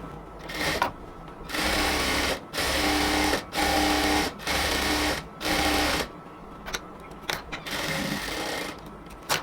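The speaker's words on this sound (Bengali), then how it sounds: "এখন এই ডাবল সেলাইটা দিয়ে দেব" A sewing machine double-stitches a salwar seam in several quick motor runs of about a second each, broken by short pauses, then gives a few sparse stitches and one longer run.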